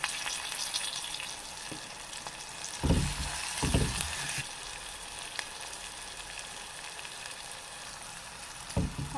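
Onion and curry leaves frying in a pan give a steady close sizzle, broken by a few loud bursts of stirring and scraping near the middle and one at the end, with no talking.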